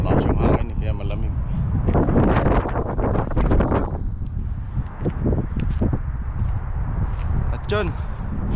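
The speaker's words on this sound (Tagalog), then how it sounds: "Malakas yung hangin kaya malamig." Strong cold wind over a snow-covered lake blows hard into the microphone in steady gusts while a person talks and footsteps crunch nearby.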